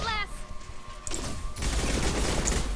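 Rapid bursts of gunfire ring out during a firefight in the video game Mass Effect, sharp volleys layered into a dense, sustained barrage.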